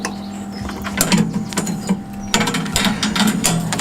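A saw blade is fed into a sharpening machine with a counter and sprung clamp, giving steady mechanical whirring with repeated ratcheting clicks and taps, loud and close, with no voices.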